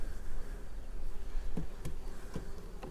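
A steady, close buzzing of many honey bees at the hive hums continuously, with a few faint clicks and taps scattered through it.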